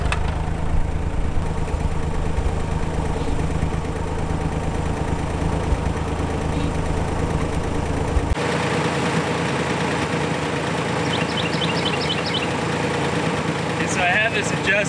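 A tractor engine idles steadily during hay mowing with a New Holland 451 sickle mower, a continuous low rumble with a faint knock. Partway through the tone shifts and quiet chirps appear near the end.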